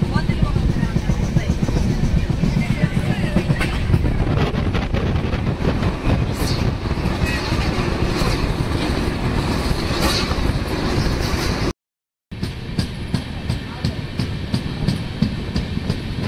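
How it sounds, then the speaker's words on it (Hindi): A passenger train pulls out of Pune station, giving a steady rumbling roll with rhythmic clatter heard from inside the carriage, broken by a brief dropout near the end. "अभी हमारी ट्रेन चल पड़ी है, 10 मिनट देरी से चल रही है"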